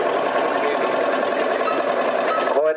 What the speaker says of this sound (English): Good old Australian made, single cylinder, horizontal diesel,